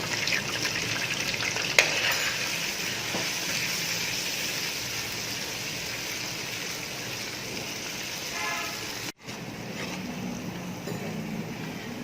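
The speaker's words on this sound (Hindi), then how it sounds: "अब इसमें अदरक लहसुन का पेस्ट डाल रही हूँ" Ginger garlic paste sizzles and fries in butter and desi ghee in a pot, a steady close hiss throughout with a brief dip near the end, no talking.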